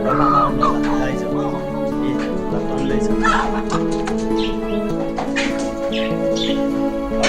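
Chickens cluck and squawk amid a busy market where local chickens and pigeons are sold, with people talking steadily over the clucking.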